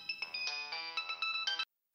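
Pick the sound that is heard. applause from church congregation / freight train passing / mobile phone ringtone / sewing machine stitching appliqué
mobile phone ringtone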